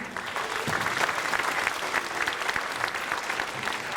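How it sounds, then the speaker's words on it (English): An audience at a fifth-grade school spring concert claps steadily for several seconds, a dense, even round of applause filling the room without pause. "So we can give them a round of applause."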